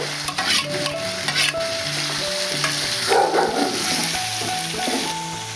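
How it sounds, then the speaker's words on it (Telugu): Thinly chopped onions tipped into hot oil for a tomato and dried salted fish curry, sizzling steadily with stirring and scraping throughout, a brief louder burst of frying about midway, close and fairly loud, with no talking. "ఉల్లిపాయ ముక్కలు కూడా వేసేస్తున్నానండి. సన్నగా తరిగి పెట్టుకున్నాం కదా, వేసేస్తున్నాను."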